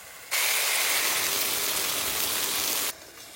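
Water used to rinse spices, with dried chilli paste and turmeric, is poured into a hot pan for a village fish curry, setting off a sudden loud hissing sizzle that holds steady for about two and a half seconds, then cuts back.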